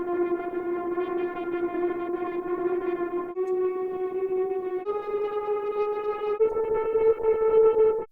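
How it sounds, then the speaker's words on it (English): Sustained synth pad notes from a Korg minilogue with delay and drive play alone, four long held tones stepping upward in pitch, each bright and harmonically rich, steady and fairly loud with slight echo tails. "I went on my Korg mini log and I set the delay to 100,"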